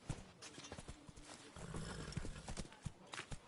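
Roach the horse gallops in The Witcher 3, a quick repeated clip-clop of hooves close by, with a short snort or whinny and faint game voices mixed in.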